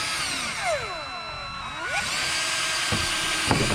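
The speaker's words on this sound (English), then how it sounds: "I'm gonna drill a little hole." Power drill boring a small hole in a Hobie Pro Angler kayak, the motor whining down and back up in pitch, then running steadily before two short clicks near the end.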